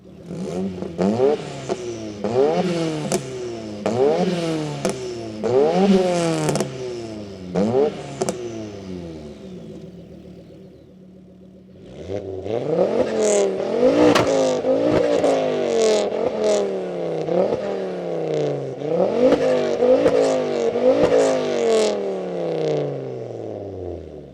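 A tuned Ford Focus RS engine revs hard in repeated rising bursts, pauses to a low idle, then revs again in a longer, louder series of climbs.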